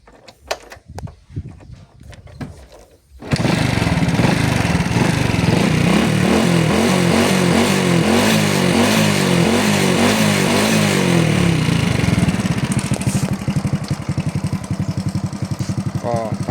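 A used vehicle offered for sale starts up and runs steadily, its engine note loud and close for about thirteen seconds with a throbbing low rhythm, after a few seconds of handling noise and faint knocks.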